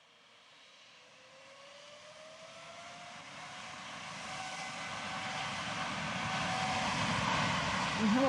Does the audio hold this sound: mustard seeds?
no